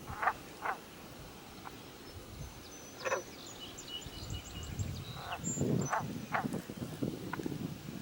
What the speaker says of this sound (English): Oh, listen to the frog.